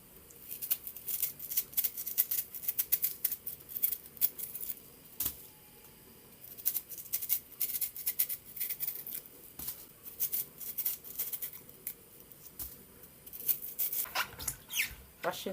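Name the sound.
peeling a yam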